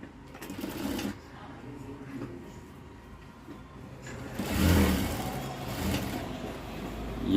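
Sewing machine stitching the lining of a blouse, whirring in short bursts and a louder middle run, fairly quiet and close with small handling noises between stitches.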